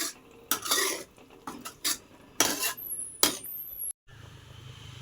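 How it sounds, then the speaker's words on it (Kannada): Cut pineapple being stirred into a pan for pineapple gojju: a spoon scrapes and clanks against the metal in several loud bursts with quiet gaps between, and a low bubbling continues underneath. "ನಾನು ಕಟ್ ಮಾಡಿ ಇಟ್ಕೊಂಡಿದ್ದಂತಹ ಅನಾನಸ್ನ ಅಲ್ಲಿಗೆ ಸೇರಿಸ್ತಾ ಇದ್ದೀನಿ. ಒಮ್ಮೆ ಮಿಕ್ಸ್ ಮಾಡ್ಕೊಳ್ತೀನಿ."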